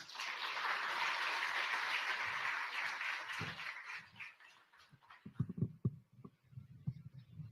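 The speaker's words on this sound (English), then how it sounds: "A round of applause." An audience at an IBM Research Africa 10th-anniversary event at the Catholic University of East Africa claps for U.S. Ambassador Meg Whitman, a steady broad burst of applause that fades after about four seconds into scattered, uneven low sounds.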